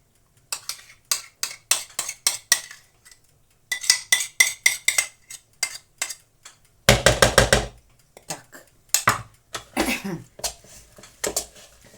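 Chinese cabbage salad being stirred with mayonnaise in a bowl, a steady run of close clinks and scrapes from a utensil, with one longer, louder scraping stretch partway through.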